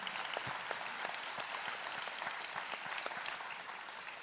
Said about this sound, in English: Always get a round of applause.